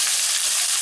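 Onions go into a hot pan all at once and fry with a loud, steady sizzling hiss, close up and alone.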